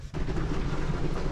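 Low, steady rumble of a running engine, droning continuously after a brief quiet start, fairly close with no speech.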